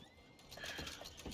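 A horse in the video game Red Dead Redemption 2 gives a short neigh together with a few hoof clops, fairly quiet and brief with no talk.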